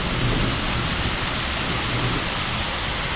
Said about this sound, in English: The storm is right over us, I think.